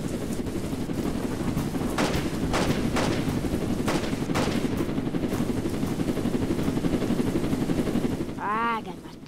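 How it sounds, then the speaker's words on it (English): Rapid gunfire in a Roblox game, with a steady stream of shots and several sharper bursts over a dense rumbling background, followed by a brief voice near the end. "Why is he shooting people?"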